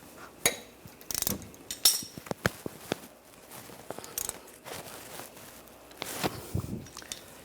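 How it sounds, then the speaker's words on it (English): A ratchet on a 14mm socket loosens brake caliper bolts on a 2014-2023 Jeep Cherokee, giving close, irregular clicks, clinks and sharp metallic snaps with quiet gaps between them. "Using a 14mm socket, loosen up the two caliper bolts."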